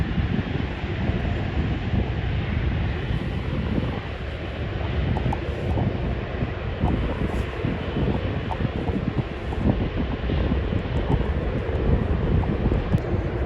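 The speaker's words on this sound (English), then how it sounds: "And a Transavia 737-800" Steady, broad jet roar of a Transavia Boeing 737-800 airliner taking off at Schiphol, heard from a distance with wind buffeting the microphone throughout and no voices.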